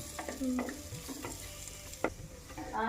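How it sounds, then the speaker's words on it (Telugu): Oil heating in a pan for gongura chicken curry gives a faint, soft sizzle with a few light stirring clicks and scrapes, close by and quiet, no voices. "ఇలాగ నూనె వేస్తుంటాం బాగా వేడాలి"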